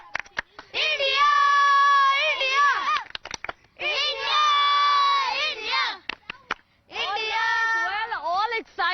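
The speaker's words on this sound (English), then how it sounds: "Can we hear one last cheer for the team, please?" A crowd of young cricket fans in Bengaluru cheers for India's team, shouting in three loud, sustained chanting bursts separated by short pauses, close and lively.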